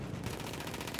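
Rapid machine gun fire in the Battlefield 1 multiplayer video game, a steady stream of dense shots across the whole moment with a brief louder burst near the end.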